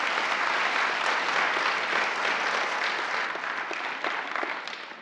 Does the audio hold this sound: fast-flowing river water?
no